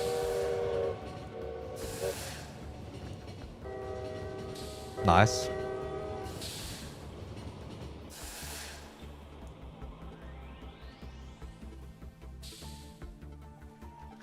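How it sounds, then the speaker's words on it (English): A passing train in the Lobotomy Corporation video game, with a loud rushing hiss and horn-like tones sweeping through over several seconds, game sounds layered around it and a person speaking briefly. "once we hear the train coming, we stop it and we close it out"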